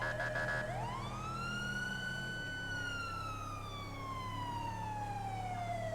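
A GTA V sheriff cruiser's police siren from a downloaded siren pack: a loud, close wail sweeps upward, then slowly falls over a steady low engine drone, with no speech.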